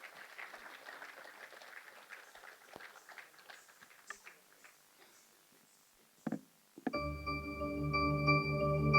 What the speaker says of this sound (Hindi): उनका तालियों से स्वागत कीजिए